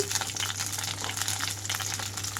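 Eggplant pieces seasoned with vangi bath masala powder fry in a pan with a steady, even sizzle and soft crackle, close and continuous, with no talking.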